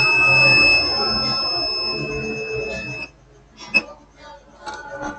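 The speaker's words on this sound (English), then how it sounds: "Why that coil is beeping to ground?" A continuity tester emits a steady high electronic beep for about three seconds while probing a faulty coil shorted to ground, then cuts off, followed by quieter clicks and faint background noise.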